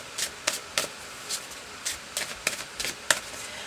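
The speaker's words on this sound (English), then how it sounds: "I'm going to shuffle for another card" A deck of tarot-style reading cards is shuffled by hand, producing a run of crisp, quick riffling and flicking bursts in an irregular rhythm, close and moderately loud with no talk.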